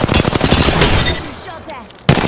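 Enemy gunfire in Apex Legends rattles out as a quick volley of loud, close shots, then dies away before one more sharp report at the end.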